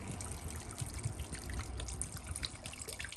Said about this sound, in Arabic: اللبن الصيامي اهو، هنحط كده